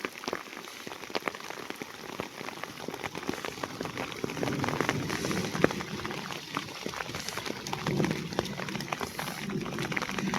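Rain falls steadily outdoors during a storm, a dense even patter of drops on surfaces and covered farm stores, continuous and moderately near with scattered sharper taps and no voices.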